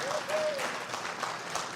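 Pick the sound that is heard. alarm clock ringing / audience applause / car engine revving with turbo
audience applause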